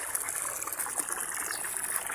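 A small water pump draws from a deep well in the rural Philippines, filling laundry basins with a steady, close gush and trickle of pouring water.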